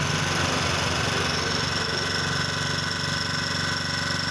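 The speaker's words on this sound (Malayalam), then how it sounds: "മോട്ടോർ അടിക്കുക തന്നെയാണ്" A motor pump runs steadily to drain a lotus pond for catching fish, a continuous close mechanical drone with dense buzzing throughout and no talking.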